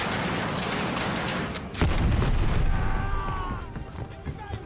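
Gunfire and a heavy boom crack through the Call of Duty Black Ops Cold War campaign, with a dense burst near the start and a louder impact about two seconds in, then fading fire, as a player talks.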